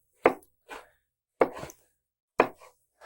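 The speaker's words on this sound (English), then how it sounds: "Bring a knife, cut these down." A knife cutting through a peeled cantaloupe melon, three separate chopping strokes, each a sharp thud followed by a softer second contact, close and clear with no talk.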